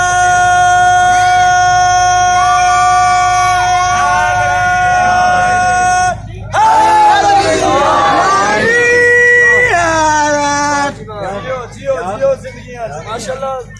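A large crowd at a religious gathering in Chak Jhumra, addressed by a speaker, bursts into loud chanted slogans midway. Booming voices follow a sustained amplified speaker, and the chanting then gives way to more talk over the PA.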